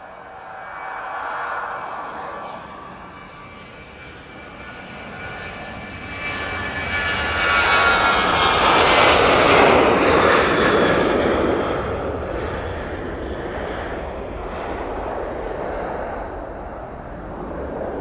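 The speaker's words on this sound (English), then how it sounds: "TUI 737-800 off to Provezza." A TUI Boeing 737-800 jet takes off from Manchester Airport, its engine roar building to a loud, broad peak midway before slowly easing off as it climbs away, with no talk.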